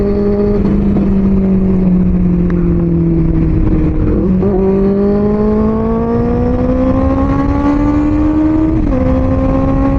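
A superbike engine revs up and down in loud, close sweeps, pitch climbing and falling several times over a steady mechanical roar.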